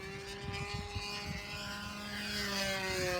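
A model airplane engine drones steadily with a high whining buzz and strong harmonic tones, swelling slightly louder toward the end, with no talking.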